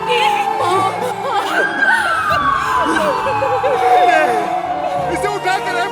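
An ambulance siren wails loudly through a chaotic emergency scene, its tone rising and falling under overlapping shouting voices and crowd noise.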